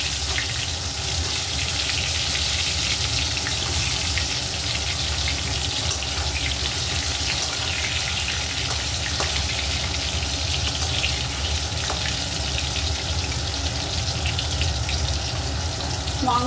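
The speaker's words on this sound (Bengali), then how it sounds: "আলুগুলো প্রথমে একটু ভেজে নেব।" Diced potatoes fry in hot oil for chicken curry, giving a steady, dense sizzle that holds loud and even throughout, close up with no voices.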